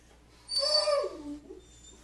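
Marley the dog whimpers once, a single rising then falling whine lasting about a second, close by in a quiet room.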